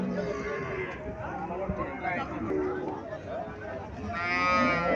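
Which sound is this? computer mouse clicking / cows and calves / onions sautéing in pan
cows and calves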